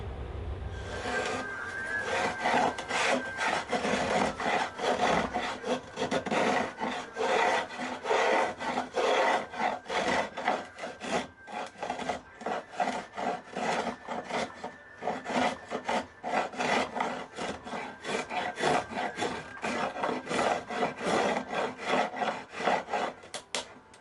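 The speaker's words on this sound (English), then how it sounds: "when you're carving a maple neck, it's really hard. These spoke shaves don't work all that well. You're actually better off using a file." A hand file rasps steadily across a carved maple guitar neck in long, repeated scraping strokes, close and continuous for the whole stretch with no talking.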